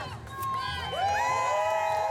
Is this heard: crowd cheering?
yes